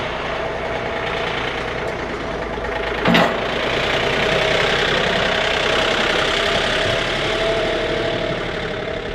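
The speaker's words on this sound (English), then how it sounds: "So we got a new John Deere tractor this spring" A new John Deere tractor idles steadily nearby in a snowy Michigan winter setting, a constant mid-pitched diesel rumble with a brief click partway through.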